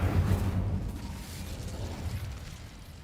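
Incendio fire spell blast in Hogwarts Legacy, a deep rumbling whoosh that swells at the start and trails off into a sustained low roar, with no talking.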